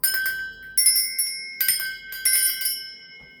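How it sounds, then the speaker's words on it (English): Small metal bells ring in loose clusters during a space-cleansing ritual, a series of bright shimmering jingles, each burst fading before the next, close and clear with no voices. "I'm going to be ringing these bells"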